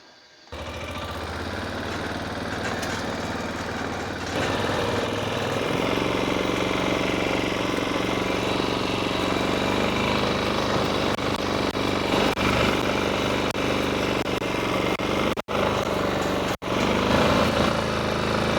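A Micro Food Plots MFP-103 Master Series machine fitted with a chisel plow runs its small engine in a steady loud drone, close and constant, with two brief cuts near the end.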